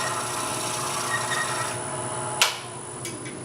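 Hand sanding on the inside of a small wooden coffee scoop, a steady close rasping rub that continues evenly, with a brief sharper scrape near the end.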